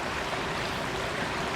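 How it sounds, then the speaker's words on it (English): Fast-flowing water in a trout river rushes steadily as a broad, even wash of noise, close and constant with no pauses. "this really fast water here, let's get the camera on it"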